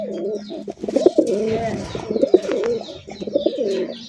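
Pigeons, racing-type birds kept for sale, coo in repeated rhythmic phrases close by, several throaty calls overlapping over about four seconds with no speech.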